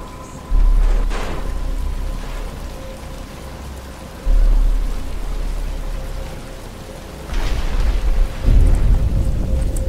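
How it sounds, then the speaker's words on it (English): Rain pours steadily in a stormy scene from Batman: Arkham Asylum, with loud rumbling bursts of thunder recurring every few seconds over the constant hiss. "But it's starting to rain."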